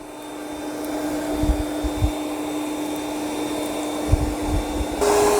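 Yeedi C12 robot vacuum cleaning a room in straight back-and-forth lines, giving a steady mid-level motor hum with a faint tonal whine and occasional soft bumps and rolling thuds, close by with no speech.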